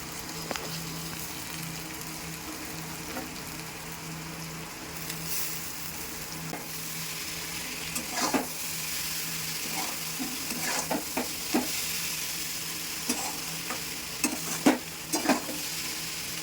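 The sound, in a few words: boiled chow mein added to pan, frying and stirring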